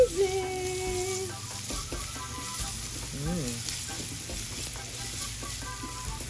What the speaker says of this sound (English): Then we'll add our onion.